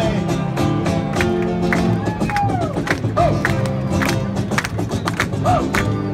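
A crowd at a May Day rally in LA claps along, with scattered claps and cheering over music and a background hum, the noise steady and fairly loud throughout.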